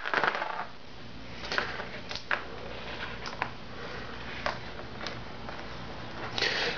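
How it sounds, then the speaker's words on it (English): Dice shaken and rolled for the War of the Ring board game, a steady rattle with scattered sharp clicks as the dice tumble and settle, close and fairly quiet, with no talking. "now both sides take the rest of their dice and they roll."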